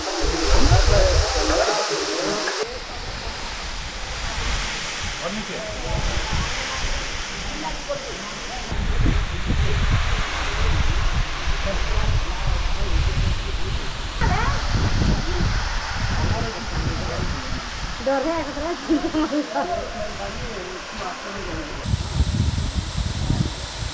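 A misty waterfall at Keonjhar in Odisha pours down as a steady broad rush of water with a hissing spray, close and continuous, with some wind buffeting on the microphone.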